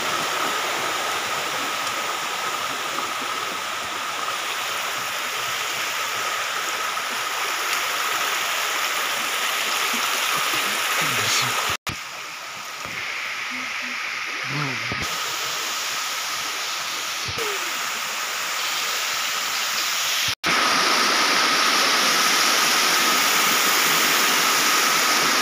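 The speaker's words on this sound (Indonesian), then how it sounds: "Tiba di kali guys, air terjun Weduar." Steady broadband rushing of the Weduar waterfall on a river, continuous and fairly close, with a few brief knocks partway through and no talk.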